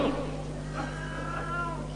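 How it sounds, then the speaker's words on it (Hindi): Cat meowing under a house, a short drawn-out mew rising and falling over a steady low hum, fairly close, with no one talking during the call. "बिल्ली जो है उसका घर बन गया वहां पर नीचे"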